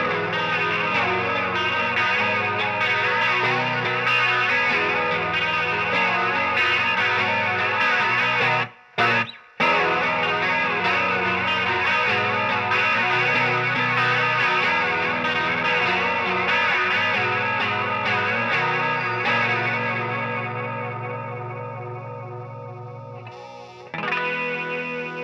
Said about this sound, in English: I think pushing the distortion about halfway up is a nice sweet spot, and it's quite tasteful.